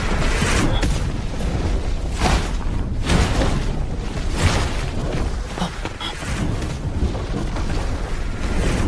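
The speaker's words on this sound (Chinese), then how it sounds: "这座涅槃塔正快要爆炸了。" Animated series sound effect of the collapsing Nirvana tower exploding: a continuous low rumbling roar with repeated heavy booming blasts every second or so, loud and dense throughout, with no voices.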